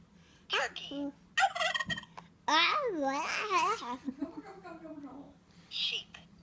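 A young child imitates a turkey gobbling, giving a warbling, up-and-down vocal burst between short babbled sounds, close to the microphone in a quiet room.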